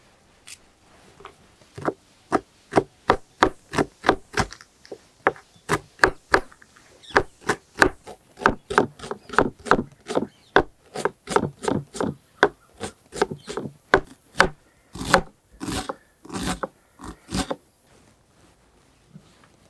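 A knife finely chops onions and green chillies on a wooden board for uthappam, with a long run of close, sharp, evenly spaced taps that speed up midway and stop abruptly.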